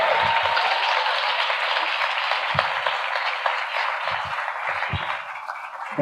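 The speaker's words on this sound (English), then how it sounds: "the last thing I want you to do is applaud again for Jesmyn Ward" Sustained applause from a live audience honoring author Jesmyn Ward at a Black History Month speaker event, a steady dense wash of clapping filling the room with a few louder individual claps and bumps, no talk over it.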